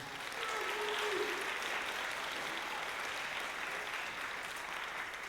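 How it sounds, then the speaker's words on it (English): An audience claps steadily through an award presentation at a high school band spring concert, sustained dense applause filling the room from start to finish, with a brief voice briefly audible early on. "One more round of applause for Andrew."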